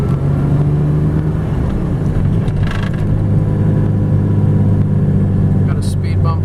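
A 1995 Toyota pickup 4x4 with a 5-speed manual gearbox on a test drive: a loud, steady engine drone heard from the cab, pulling strongly at low revs, with someone talking over it.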